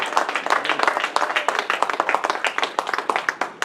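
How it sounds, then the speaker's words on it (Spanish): A church congregation at a Sunday sermon claps loudly and rhythmically, close and dense throughout, with a hint of voices underneath. "Denle aplauso al Señor."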